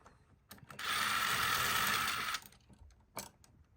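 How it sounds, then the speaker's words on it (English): A power drill whirs for about a second and a half while backing screws out of a wall-mounted TV setup, close and fairly quiet, with light clicks and handling noise before and after. "Just take these screws out right here for right now."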